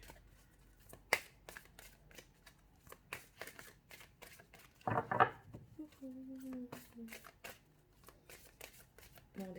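Tarot cards are shuffled by hand in repeated crisp riffles and soft slaps, close up and fairly quiet, with a brief voice murmuring partway through.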